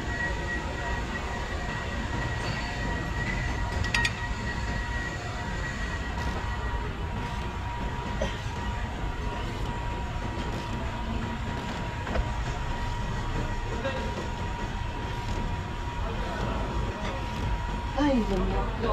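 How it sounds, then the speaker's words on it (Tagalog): A passing train rumbles and clatters steadily at moderate loudness throughout, heard from beside a road with a faint tonal whine, and people talk intermittently over it. "Sila yata ang train nito."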